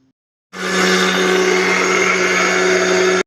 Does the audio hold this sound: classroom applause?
no